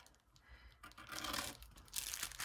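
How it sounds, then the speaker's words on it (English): Paper or craft material is cut with large scissors, giving close, crisp crunching and rustling slices that grow louder after a quiet start, with no talking. "I'm going to grab my larger scissors, and I want to make sure I'm going to cut it wide enough"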